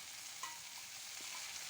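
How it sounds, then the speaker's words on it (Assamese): Onions frying in a pan for an Assamese fish roe dish: a faint, steady sizzle with a few soft stirring scrapes, and no one speaking. "আৰু এইখিনি মই ভালদৰে ভাজি ল'ম।"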